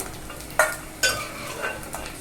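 Dry prawns frying in a pan give a light sizzle, with a few sharp scrapes and clinks as a spoon stirs them, close and fairly quiet.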